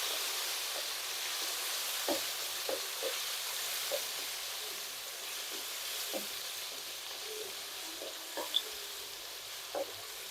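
Tomatoes sautéing in a pan for Kongu-style kara kuzhambu give a faint, steady sizzle with scattered soft stirring clicks, and no one speaks.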